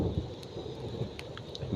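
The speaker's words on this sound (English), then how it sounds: "thunderstorms, as you can hear" Outdoor rain during a gentle thunderstorm in nature, a soft continuous hiss of rainfall with low rumbling underneath and a few faint patters, fairly quiet and steady.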